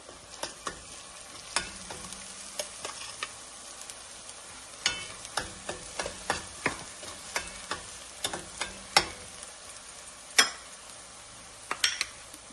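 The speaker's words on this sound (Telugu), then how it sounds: "కీమా బాల్స్కి ఆయిల్లో ఆనియన్ పేస్ట్ వేసేయాలి" Onion paste frying in oil for a meatball curry gravy, a low steady sizzle punctuated by frequent sharp clinks and scrapes of a spoon stirring against the pan, no speech.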